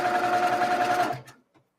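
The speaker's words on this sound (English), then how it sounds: "Now we're going to sew a D rectangle to each end of that unit." A sewing machine stitches quilt block pieces in a steady, close, fast run for about a second, then stops abruptly, followed by faint handling clicks.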